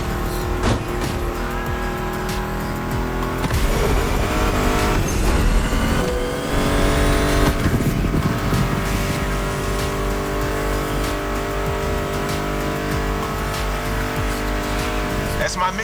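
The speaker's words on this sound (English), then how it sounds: "Meshes well with the sound of the engines, you feel me?" Car engines in the racing video game The Crew Motorfest, sweeping rev and acceleration tones with tire noise layered under steady music, loud and continuous throughout.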